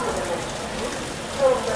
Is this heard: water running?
no